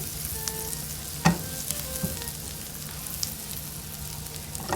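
Garlic sautéing in butter in a pan for an omelette, a soft continuous sizzle with crackling pops and one sharp clink of a utensil, heard alone without talk.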